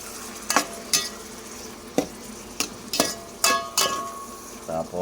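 Squid in coconut milk is stirred in a pan, with sharp spatula scrapes and clinks at irregular intervals over a faint simmer.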